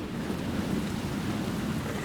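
Heavy rain with a low thunder rumble in Resident Evil 2 Remake, a dense, steady downpour filling the whole clip without speech.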